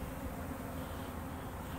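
Dense, steady buzzing of honeybees from freshly installed packages in a new hive, close and continuous.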